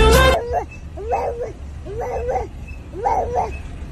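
A dog gives three or four separate short barks, spaced evenly at a moderate distance. A sharp burst of other sound opens the clip, and there is no talking over the barks.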